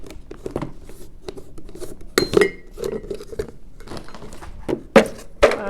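Edamame poured into a dish for homemade trail mix, giving a few scattered clattering bursts of pods hitting the bowl, the loudest near the middle and end, close by with no talking.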